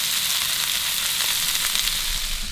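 Onion, chili and cabbage stir-frying in a pan inside a camper van, a steady loud broadband sizzle running without pause, with no talking.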